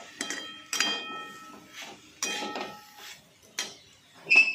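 Metal spoon scraping and knocking against a cooking pot while potato curry seasoned with salt is stirred, several separate clinks and scrapes in an uneven rhythm, close and moderately loud with no talking.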